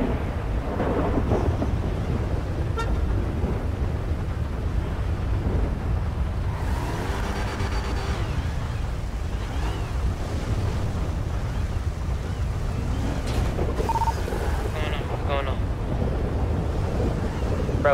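Heavy, loud thunder rolling through a GTA Five M roleplay server, steady rumbling storm noise with wind and rain filling the whole stretch, and faint voices talking over it.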